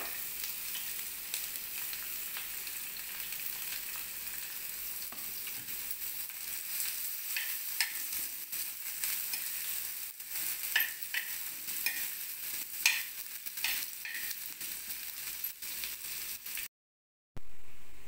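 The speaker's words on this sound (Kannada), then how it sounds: "ಈಗ ಹೆಚ್ಕೊಂಡಿರೋ ಈರುಳ್ಳಿನ ಹಾಕಿ ಹುರ್ಕೊಳ್ತೀನಿ." Chopped onions fry in a spoonful or two of oil on a tawa for mutton keema, giving a steady, close hiss of sizzling with a few soft stirring scrapes, then a brief silence near the end.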